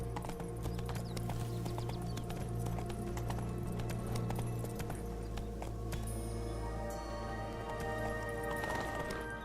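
The horse Roach gallops in The Witcher 3: Wild Hunt, Blood and Wine, a steady rapid clip-clop of hooves alongside game ambience and a constant low hum, with no voices.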